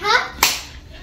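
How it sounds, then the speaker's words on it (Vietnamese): At a child's birthday, an older brother gives one sharp, close hand clap right after a child's brief chatter, followed by quiet room tone. "Rồi anh hai vỗ tay."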